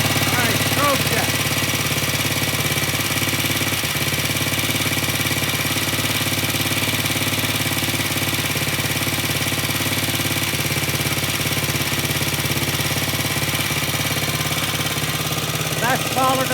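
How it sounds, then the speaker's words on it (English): Vintage British motorcycle engine idling steadily and loud close by, a continuous even mechanical thrum with a faint rattly knock that holds unchanged the whole time. "Okay, yesterday this bike would not idle. Today it sounds really, really good."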